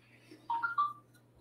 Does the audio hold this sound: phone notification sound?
yes